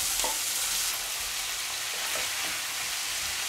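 Cauliflower lands in a hot frying pan beside golden fried potato patties and sizzles in a steady, dense hiss with faint clinks of stirring, no talking.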